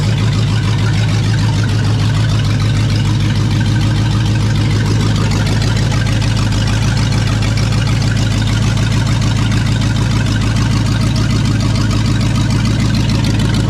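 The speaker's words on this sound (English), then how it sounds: "High idle seems to be working." A 1969 Pontiac Bonneville 428 V8 station wagon engine running steadily at high idle after sitting 45 years, a loud, continuous low rumble with a constant throbbing beat and no voices over it.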